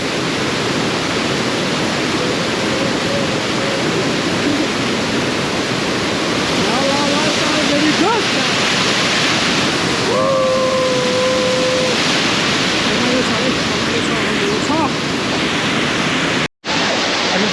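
The Mailung waterfall in Nepal roars in a constant broad rush close by, with people's voices briefly audible over the noise of the falling water.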